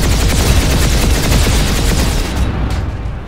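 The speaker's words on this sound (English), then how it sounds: "Who's doing the shooting?" Dense, continuous video game gunfire from a tank battle, loud and sustained with booming reports throughout, thinning slightly near the end.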